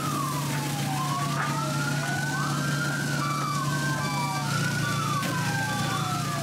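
Several fire engine sirens wail at once, rising and falling in overlapping sweeps over a steady engine rumble, loud and continuous, at a building fire in Cirebon.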